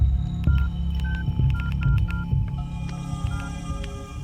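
A telephone being dialed for an urgent call home at a roadside dhaba: a quick run of dial tones and beeps over a low steady hum, with no speech.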